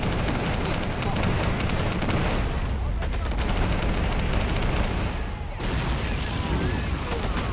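Men of War Assault Squad 2 multiplayer battle with loud, nonstop gunfire and artillery, dense overlapping shots and blasts, a short dip in intensity before the barrage resumes, voices faintly mixed in.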